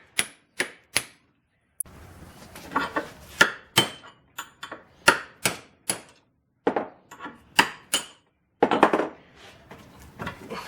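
Sharp metallic hammer blows on a cold chisel cutting a notch in a pin on a 1969 XW Ford Falcon under restoration, about a dozen loud, separate strikes in an uneven rhythm, close up with no talking.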